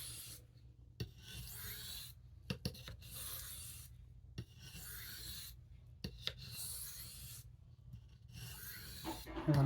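Steel blade honed on a hard Arkansas sharpening stone, with quiet, rhythmic scraping strokes separated by short silent gaps, heard up close and without talk.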